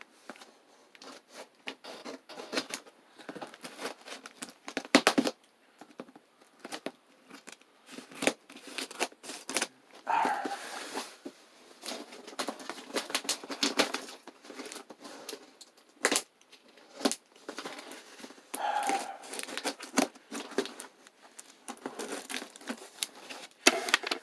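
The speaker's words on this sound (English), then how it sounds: "I'm just gonna have to bring in the scissors to do all this work." Repeated snipping of scissors and crinkling as book packages are cut open, irregular bursts of sharp cuts and rustles close by, with scattered clicks and rattles between them.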